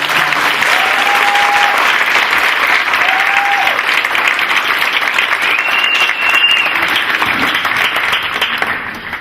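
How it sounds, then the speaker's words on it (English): Sustained, loud applause from a ceremony audience honoring the Little Rock Nine continues steadily throughout, a dense crowd clapping with no pauses. "One more round of applause for our Little Rock Nine."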